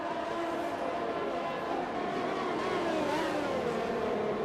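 Race cars drag racing side by side down a straight in a racing video game, engines droning steadily at high revs with shifting pitch, loud and continuous, with a commentator's voice faintly underneath.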